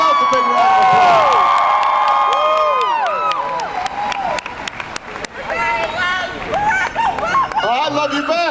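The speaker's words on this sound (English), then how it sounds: "Give yourselves a big round of applause." A large outdoor crowd at a political rally at St. Louis Union Station cheers and claps loudly, with shouts and whoops rising and falling, while an amplified voice speaks over the noise.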